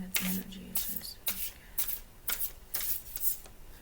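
Tarot cards are shuffled by hand in a quick run of crisp riffles and flicks, close and fairly quiet, with no talking.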